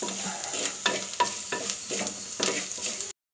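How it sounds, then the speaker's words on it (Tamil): Small onions sauté in a pan with an even sizzle, and a spoon stirs them in a rhythmic series of scrapes about every half second before the sound cuts off. "சின்ன வெங்காயம் நல்லா வதங்கட்டும்"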